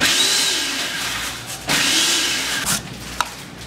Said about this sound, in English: So once the potatoes are finished grating